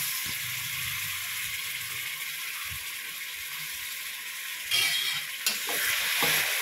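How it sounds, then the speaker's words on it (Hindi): Dal tipped into masala frying in hot oil, a steady loud sizzle with some stirring and a few scraping bursts near the end, no talking. "मसाला ने अब तेल छोड़ दिया है तो अब हम इसके अंदर दाल डाल देंगे"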